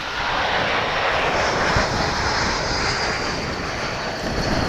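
Airplane engine roaring at DFW Airport as the aircraft crosses the runways, a steady, loud broadband rumble that holds evenly throughout with no voices.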